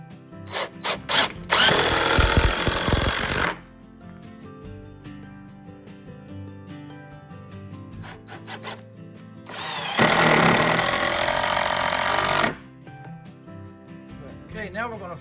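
Power drill driving 3 to 3.5-inch screws into a 2x6 wood header, two long loud bursts of whirring with short clicks and taps between, while a person talks nearby.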